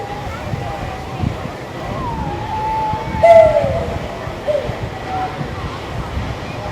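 A steam locomotive whistle sounds at a New South Wales heritage railway, a long wavering tone, briefly sharper near the middle, over outdoor wind and background noise.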